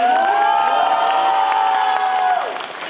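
An audience at a dance show cheers and applauds a dancer, a sustained loud whoop and shouting from the crowd holding steady, then tailing off at the end.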